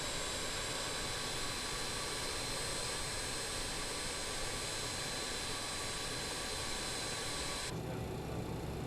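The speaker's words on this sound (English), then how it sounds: "Engine 4 is started." An airliner jet engine spooling up in a flight simulator game, a steady loud broadband roar with a high whine, holding constant before the upper tones drop away near the end.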